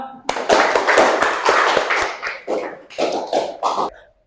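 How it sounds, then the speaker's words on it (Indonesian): A small group of students in a school class video claps in short, uneven bursts of close, sharp hand claps with brief pauses between them, fading out toward the end. "Oke, berikan tepuk tangan dong."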